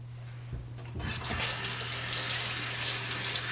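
Kitchen tap water runs steadily into a sink while a messy banana pudding dish is rinsed, starting with a brief clatter before the flow begins loud and constant and continues alone to the end.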